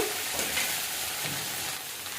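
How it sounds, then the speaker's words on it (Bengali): Taro (kochu) sautéed and stirred in a pan with nigella seeds, a steady close hiss of sizzling oil with soft scraping stirs throughout, no voices. "দিয়ে দিলাম কচুটা বেশ মানে কষিয়ে নেব ভালো করে"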